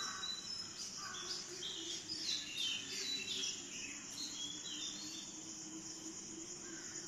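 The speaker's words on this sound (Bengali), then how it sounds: "পাখিগুলো কিচিরমিচির করে ডাকছে," Birds chirp and twitter softly in a calm, rainy-season morning outdoors, with scattered high calls over a faint steady insect-like buzz and low background hum, fairly quiet and distant.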